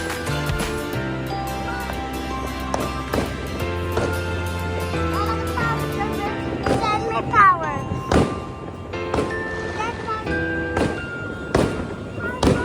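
New Year fireworks pop and crack repeatedly at irregular intervals, some whistling, while people talk and a child calls out over the bursts.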